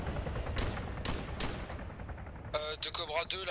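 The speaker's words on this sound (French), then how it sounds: "C'est qui nous tire dessus?" Gunfire aimed at players in Arma 3 Altis Life: three sharp, loud shots spaced about half a second apart, each with a rumbling tail, followed by someone speaking close to the mic.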